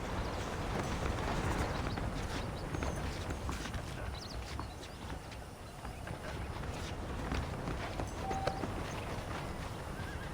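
Horse hooves clip-clop steadily on the ground in the Red Dead Redemption video game, a continuous rhythmic trot under a dense, constant background bed of game ambience.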